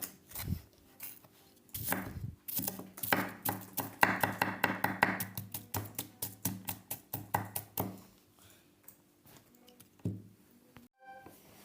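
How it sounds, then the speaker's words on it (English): A knife chopping an onion on a board: a fast, steady run of crisp knocks that speeds into a dense burst midway, then slows to scattered taps, close and alone. "we go to cut the onion"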